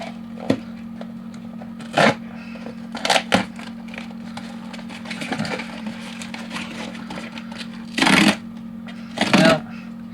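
A small stainless steel keychain mini cleaver scrapes and saws at a cardboard box in short, separate bursts of rasping and tearing over a steady electrical hum, with quieter rustling between strokes.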